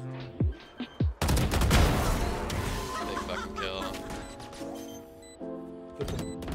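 Rapid bursts of gunfire from the tactical shooter Valorant, loud and dense, starting with a few single shots and building into sustained volleys with clattering impacts over background game sounds.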